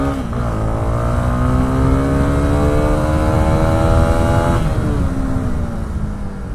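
A Honda CB 300R motorcycle engine drones loud and steady while riding, its pitch rising smoothly, briefly dropping at a gear change, then climbing again.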